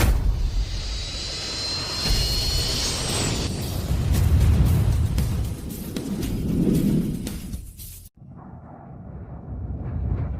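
An aircraft making an emergency landing roars loudly with a deep, rushing engine rumble and a rising whine. The sound swells, then cuts off sharply before a quieter rumble returns.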